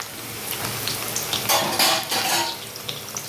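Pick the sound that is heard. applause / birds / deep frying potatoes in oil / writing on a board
deep frying potatoes in oil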